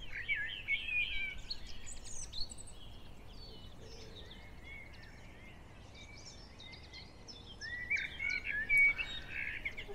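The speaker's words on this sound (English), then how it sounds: "as soon as the rain stops and the sun comes out, the birds just go crazy." Several birds chirp and sing after a rain shower near a narrowboat, calls overlapping in busy bursts across the whole stretch, moderately close, with no talking.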